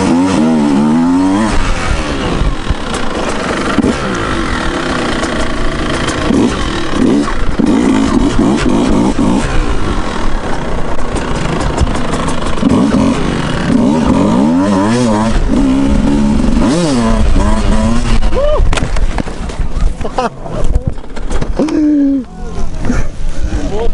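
A motorcycle engine revving hard and continuously during a wheelie attempt, loud and close with rising and falling pitch, while someone talks over it.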